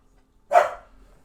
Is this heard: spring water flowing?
no